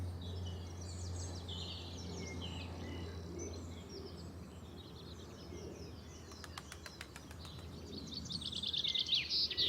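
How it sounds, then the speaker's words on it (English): Small songbirds such as blue tits give high, scattered calls and chirps among a layered chorus of other birds in the open, with a steady low hum beneath and a brief burst of rapid clicks near the end. "I can hear blue tits going"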